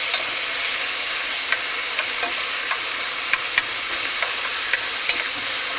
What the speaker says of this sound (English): it's going to give us a little sizzle.